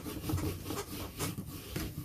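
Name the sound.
scrubber cleaning a rubber stamp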